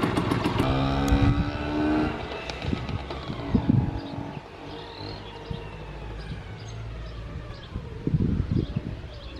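Vespa V50 scooter with a dented, welded engine running in short bursts, a buzzy two-stroke note rising and falling with revs, fairly close and loud at the start and end.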